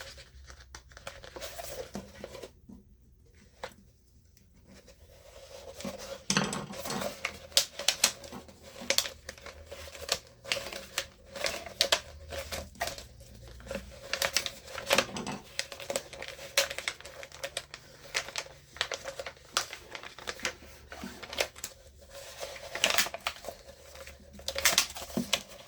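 Clear heat transfer vinyl being weeded by hand, with crinkly crackles and sticky peeling sounds from the backing in irregular bursts, close and fairly quiet.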